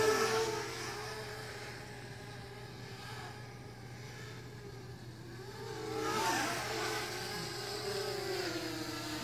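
A Blade 200 QX quadcopter flying on reduced motor power gives a continuous buzzing whir that wavers in pitch, swelling louder near the end, with no voices.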